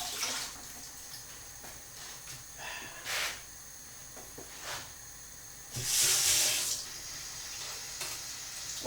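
Homebrewing equipment is rinsed under running tap water, giving soft intermittent hissing splashes with one stronger, louder gush toward the end, no talking.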